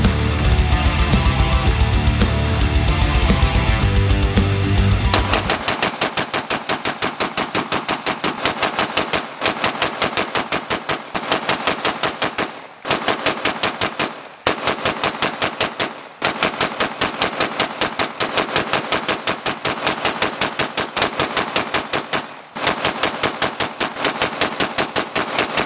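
A CZ Bren 2 rifle fires a long, sustained string of rapid shots for about twenty seconds, loud and close, with brief pauses between strings during a 500-round burn-down; a different, denser sound plays for the first few seconds.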